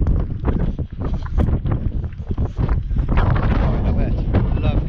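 Strong wind buffets a handheld microphone on an open outdoor hiking trail, a loud, continuous rumbling roar with gusty surges that persist throughout.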